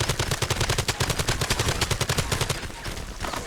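Rapid, sustained automatic gunfire in Far Cry 2 rattles loudly in a fast, even rhythm, with a brief break near the end before shots resume.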